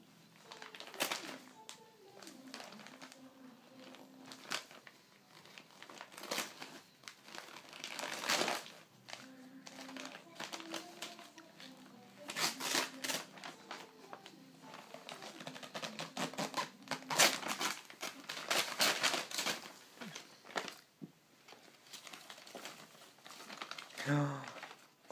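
Gift wrapping paper crinkles and tears in bursts of close, crisp rustling and ripping, irregular and stop-start, while people talk over it.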